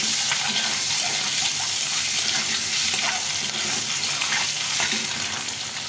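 An egg cracked into a little oil in a spatula-sized pan fries with a pinch of turmeric powder, giving a steady, dense sizzle with faint crackles throughout, close and fairly loud.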